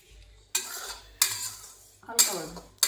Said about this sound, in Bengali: দিয়ে এখন ভেজে নিচ্ছে আর কি সুজিটা